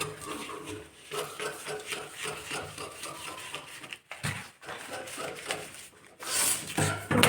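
Scissors cut through blouse fabric in a steady run of close, rasping snips and slides that pause briefly and resume, with no voices.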